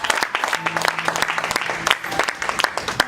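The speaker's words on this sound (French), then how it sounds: "Can you clap hands for the Lord?" A church congregation claps hands for the Lord in dense, continuous applause, loud and close, with a voice speaking faintly beneath the clapping.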